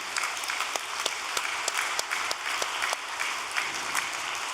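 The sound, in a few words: congratulatory applause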